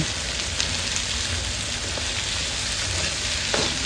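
Chopped onions and cumin seeds sizzling in hot oil in a pan for a potato sandwich, a steady close crackling hiss with no pauses.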